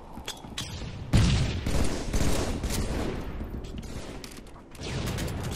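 Gunfire in Halo 3 multiplayer, with sniper rifle shots among repeated bursts and booms, loud and dense throughout with a heavy impact near the start.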